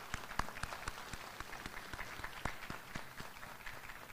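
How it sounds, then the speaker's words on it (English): Scattered applause from school board members at a staff recognition event, a sparse, faint patter of individual claps spread evenly across the clip, heard from a distance with no talk. "giving you the first round of applause you'll receive tonight"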